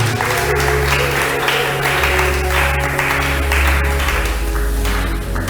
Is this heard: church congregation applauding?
yes